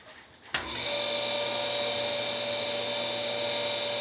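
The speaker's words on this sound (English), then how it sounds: "I hear water going into the tank, so that's a fantastic sign." Water flows into a reverse osmosis system tank, starting abruptly after a short quiet moment and then holding as a steady, even whirring hiss with a faint high whine throughout.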